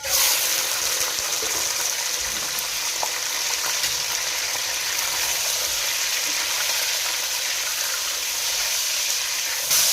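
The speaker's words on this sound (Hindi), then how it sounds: "अब इसके अंदर हम 900 ग्राम चिकन डाल देंगे।" In a karahi, 900 grams of chicken sizzle in hot cooking oil, a loud, dense, continuous frying hiss with faint stirring clatter.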